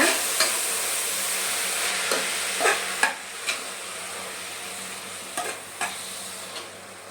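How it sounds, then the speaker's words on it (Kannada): Chopped fenugreek leaves fry in a pan with a steady sizzle, while a spatula scrapes and stirs in several sharp, irregular strokes over the hiss, close by with no talk. "ಇವಾಗ ಮೆಂತ್ಯ ಸೊಪ್ಪಿನ ಹಸಿ ವಾಸನೆ ಹೋಗಬೇಕು ಹಾಗೆ ಒಂದು ಸ್ವಲ್ಪ ಬಾಡಬೇಕು ಅಲ್ಲಿ ತನಕ ಇದನ್ನು ಹುರ್ಕೊಳ್ಳೋಣ"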